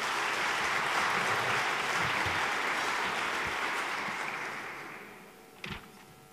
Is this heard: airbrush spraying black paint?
no